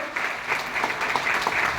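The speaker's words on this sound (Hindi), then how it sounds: "थैंक यू जी, जोरदार तालियां सर के लिए।" A burst of audience applause, many hands clapping steadily at moderate volume for under two seconds, with no speech over it.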